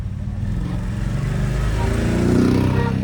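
Bikes and cars rumble at Rohtang Pass in Kullu district, a steady low engine drone from idling and passing vehicles that swells slightly toward the end.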